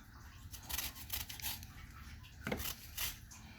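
A lemon is zested for a Middle Eastern meal, giving soft, scratchy rasping strokes in short repeated bursts, faint and close, with a few light taps between them.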